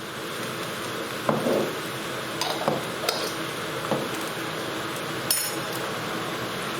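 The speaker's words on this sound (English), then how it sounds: "giving it a nice stir" Red lentil and potato curry being stirred in a pot, a few sparse metallic clinks and taps of a spoon against the pan over a quiet, steady background hiss.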